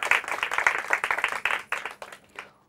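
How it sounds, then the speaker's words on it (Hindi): An audience at a Hindi quiz competition claps for a team placed third. The applause is lively and close, with distinct claps, and it tapers off quickly over about two and a half seconds. "इनके लिए भी जोरदार तालियां"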